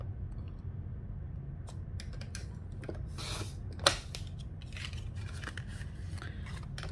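Scissors snipping paper for a scrapbook page layout, a handful of quiet, crisp cuts in short bursts with a soft scrape, close by in an otherwise hushed room.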